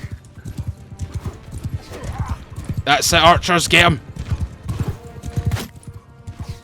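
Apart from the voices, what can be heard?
cavalry horses galloping in video game Mount & Blade II: Bannerlord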